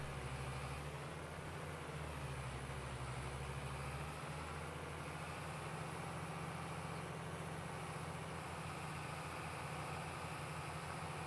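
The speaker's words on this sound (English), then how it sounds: "I like listening to these tractors work." Old tractor engines in Farming Simulator 22 labor while pulling hay up a hill, a steady low diesel drone with a constant throbbing rumble that runs on without a break.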